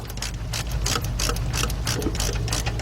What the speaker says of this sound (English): So we're going to go ahead and tighten them up